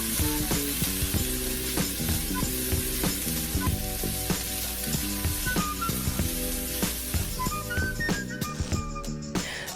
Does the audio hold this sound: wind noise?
no